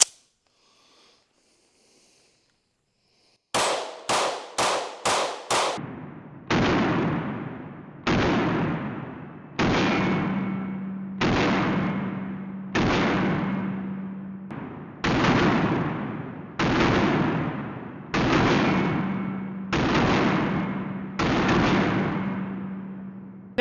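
Walther PDP pistol fired outdoors, a quick burst of five sharp shots followed by ten slower, evenly spaced loud reports, each cracking close by with a short ringing decay.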